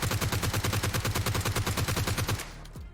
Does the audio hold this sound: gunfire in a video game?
yes